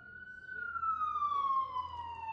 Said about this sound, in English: The sirens are popping up